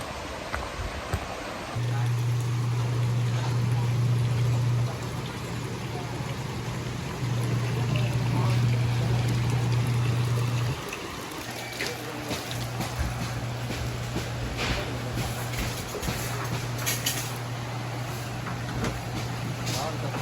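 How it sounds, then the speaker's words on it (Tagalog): Water pouring into a tub to fill it for hand-washing laundry, a steady broadband rush running the whole time with some household noise, while a low electrical hum or motor drone starts and stops in the background. "pinapapuno po namin yung tubig para manlaba"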